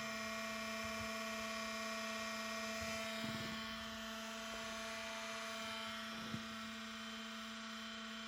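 Cooling fan of a roughly 20-year-old IBM laptop with a Pentium M processor, salvaged from a recycling area, whining steadily with a strong tonal hum and high hiss, continuous and close throughout.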